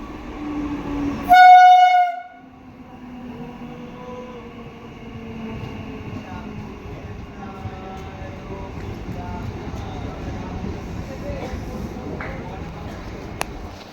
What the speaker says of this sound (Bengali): এমনকি ট্রেন আসছে